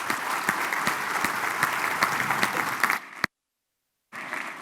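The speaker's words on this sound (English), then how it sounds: "Please join me in giving a round of applause to our panelists." Audience at a business panel event clapping for the panelists, a steady roomful of applause with distinct individual claps, cutting to a short silence before clapping resumes.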